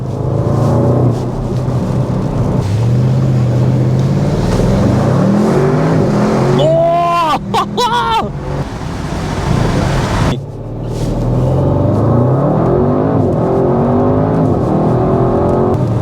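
A 2025 Audi RS6 GT revs hard and rises through the gears, its loud exhaust crackling and banging between pulls, fading briefly before surging again.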